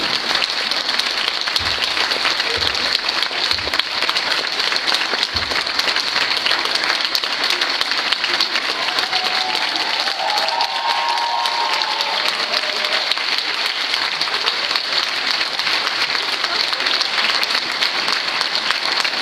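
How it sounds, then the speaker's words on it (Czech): An audience applauds steadily at a school ball in Slavkov u Brna after a polonaise danced by ninth-grade pupils, the dense, even clapping continuing for nearly twenty seconds without a break and with no voices over it. "Ještě jednou děkujeme vám za váš potlesk"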